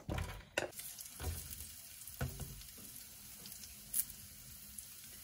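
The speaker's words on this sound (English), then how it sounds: "I left some of the bacon grease in there, and we are gonna fry up the onions." Onions frying in leftover bacon grease in a pan, a soft steady sizzle with a few sharp scrapes and clacks of a utensil stirring, fairly quiet overall.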